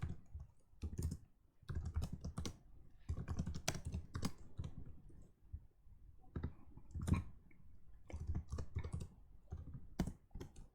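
Code being typed on a computer keyboard, with bursts of quick clicky keystrokes separated by short pauses, close and fairly loud throughout, with no talking.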